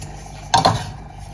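Carbonara being stirred in a pan: a brief clatter of a utensil scraping and knocking against the metal, two quick close knocks, then a fading scrape over a quiet room.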